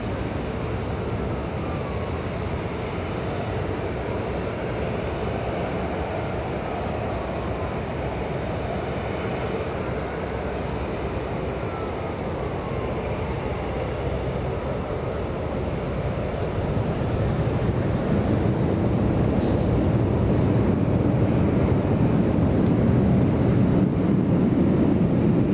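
Alaska Airlines jet taking off from runway 24 left at LAX, a loud continuous low engine roar that builds in strength partway through.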